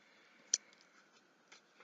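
Scissors snip through card once sharply, followed by a fainter snip a second later, close and quiet in an otherwise still room.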